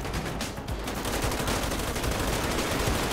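Bursts of rapid gunfire ring out in GTA 5 during a police SWAT mod shootout, dense crackling shots in quick succession that grow steadier and louder, with no voices over them.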